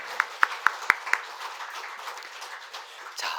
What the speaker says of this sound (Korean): 우리 박수로 우리 환영하겠습니다